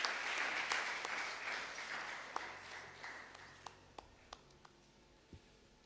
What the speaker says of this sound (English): Can we just give another very big hand clap